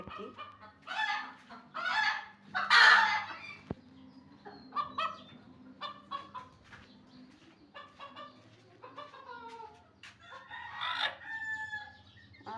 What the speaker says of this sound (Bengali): আর এখানেও এই মুরগিটা ডিম পাড়ার জন্য বসেছে